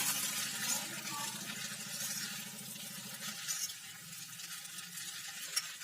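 Chowmein noodles being tossed and mixed in a hot pan, a steady soft sizzle with light scraping and stirring throughout, close and fairly quiet, with a small clink near the end.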